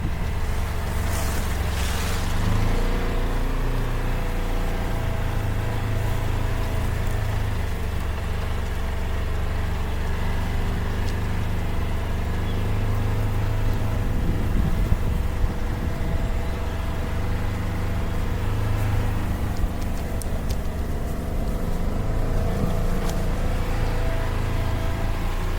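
Polaris Ranger XP 1000 Northstar UTV driving across rural property, a steady droning engine hum with low rumble that holds constant throughout, close and continuous, with faint rattles and no talking.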